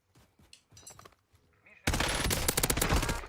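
Gunfire in the video game Call of Duty Warzone: a sustained loud burst of automatic fire erupts in the second half after quieter game noises and a voice, rapid shots overlapping densely.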